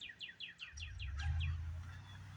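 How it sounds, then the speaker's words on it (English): Birds singing nearby in a rapid series of bright descending chirps, repeated about ten times, over a low rumbling background. "So when the birds are out, they're singing, having joy."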